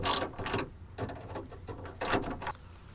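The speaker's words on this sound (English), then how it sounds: "then just tighten up the screws here." Screws being tightened on a Mitsubishi Eclipse door lock, giving close, short clicking and ratcheting mechanical bursts in an uneven rhythm, no talking.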